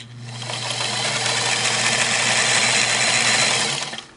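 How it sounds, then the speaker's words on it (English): A restored Singer Model 237 sewing machine running a wide zigzag stitch, a steady rapid mechanical whir that ramps up, holds loud and even for several seconds, then winds down, with no voices. "But I want to do the wide zigzag too, make sure I'm not going to get a needle strike"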